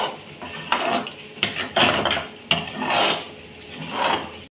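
Kadai veg is mixed in a pan with a metal spoon, giving several rough scraping strokes against the metal in uneven bursts, close and moderately loud, with no talking.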